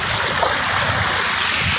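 Fast-flowing flood water of the Satluj river roars in a loud, continuous broadband rush, with turbulent surging and no pause.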